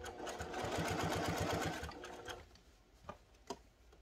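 A sewing machine stitches through thick layers of fabric for a padsicle, a fast rhythmic run of needle strokes for about two seconds, then stops, followed by a few soft clicks and handling sounds nearby.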